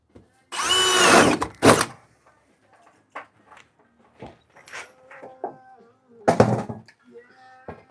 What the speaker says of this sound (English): it's always fun drilling holes